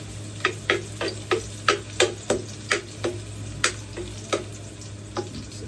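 Garlic frying in a pan, a low steady sizzle under a regular series of about a dozen sharp spatula taps and scrapes, close and evenly spaced.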